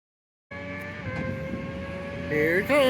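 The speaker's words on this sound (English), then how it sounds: "Man, it makes good choo-choo noises too." A toy train starts up abruptly, giving out steady whistle-like choo-choo tones over a rattling mechanical rumble, growing louder and rising in pitch toward the end, close by.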